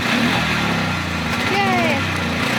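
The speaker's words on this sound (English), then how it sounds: "So we're going to turn the idle up a little more and try it again" A small engine idles after an oil hose repair, a steady close rumble with a slight pitch rise midway as the idle is turned up, while people talk over it.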